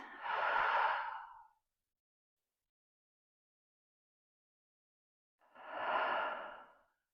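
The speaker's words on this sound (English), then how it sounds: "I want you to take a deep breath in." Two slow, deep breaths during a core workout, each a long airy inhale or exhale, close and clear, separated by several seconds of silence.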